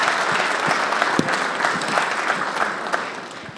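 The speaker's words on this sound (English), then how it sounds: "I'd like you to give yourselves a round of applause" An audience at a pool tournament hall claps in a continuous round, with individual louder claps standing out against the steady wash of hands.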